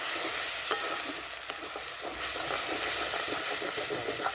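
Chicken gizzard masala with red chilli paste bubbling and sizzling in a pan after a splash of water, a dense continuous crackle with a few sharp spatter pops, no voices.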